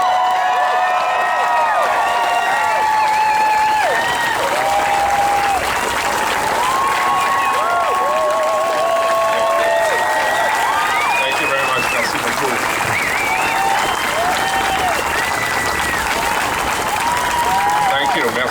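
An outdoor crowd at a 2019 Ottawa Pride flag raising applauds a mayor's welcome with steady, sustained clapping, mixed with scattered cheers and whoops and voices calling out over the applause.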